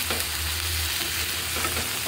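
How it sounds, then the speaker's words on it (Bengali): Okra fries in a pan with spices and is stirred. A loud, continuous sizzle fills the sound, with soft scraping stirs close by. "সবগুলো আমি সুন্দর করে নেড়ে দিচ্ছি"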